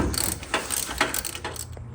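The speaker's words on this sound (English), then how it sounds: "so I'm going to change the spark plug." Ratchet clicking as a spark plug is loosened from a 19.5 hp Briggs & Stratton engine, with several brief, close bursts of rapid clicks spaced through the clip.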